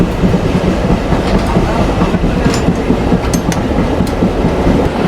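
Mongla Commuter train running on rails through wetland country, with a loud, steady rumble and rhythmic wheel clatter heard from inside the carriage.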